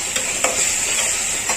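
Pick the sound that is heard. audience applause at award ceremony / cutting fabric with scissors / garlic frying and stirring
garlic frying and stirring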